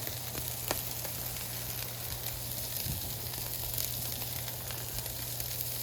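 A patty melt sizzles steadily in butter on a Blackstone griddle, a close, even crackle with a low hum underneath and no voices.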